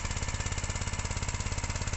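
A Honda 13 hp engine drives a water pump fitted with a long pressure pipe outlet, running close and steady with a fast, even chugging pulse and no voices.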